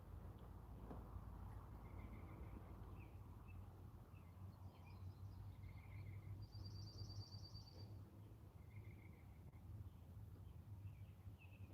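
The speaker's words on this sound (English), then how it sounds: "Lots of different birds." Several kinds of wild birds call and chirp faintly in the distance on a quiet horse property, scattered short high notes over a low steady background rumble.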